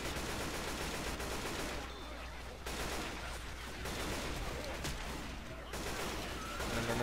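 Automatic AK rifle fire in Left 4 Dead 2, dense crackling bursts that run almost without a break, with brief gaps, set over a steady low game hum.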